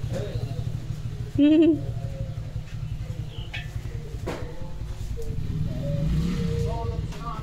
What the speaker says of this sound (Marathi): गाडी आली ना, तुझं मालक आला.